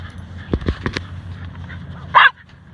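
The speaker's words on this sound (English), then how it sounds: "No barking at me." A single sharp dog bark near the end, close by, after some soft thumps and splashy movement in a quiet outdoor setting.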